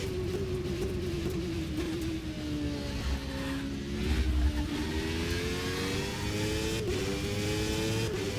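A McLaren race car in rFactor 2 drones around wet Donington Park, its engine note holding loud and steady with small rises and dips in pitch as it shifts, a continuous close roar with no voices.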